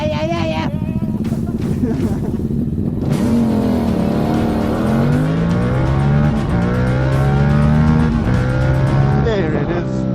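A Yamaha MT-07 motorcycle engine revs and accelerates hard through rising gears, loud and close, with steady wind noise behind it.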